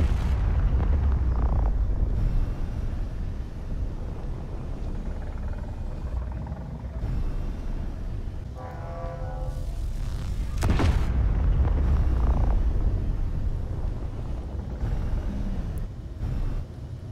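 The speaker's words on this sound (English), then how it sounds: "this is what happens when it got shot by railguns" Railgun rounds slam into a spaceship in Space Engineers, a continuous heavy rumble punctuated by several booming impacts and crackling bursts, loud and alone without talk.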